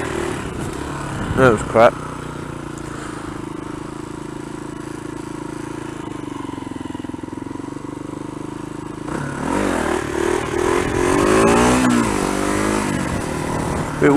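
A Kawasaki KLR 250 motorcycle is ridden through wheelies, its engine droning steadily and then climbing into louder, rising revs. The rider speaks briefly over it.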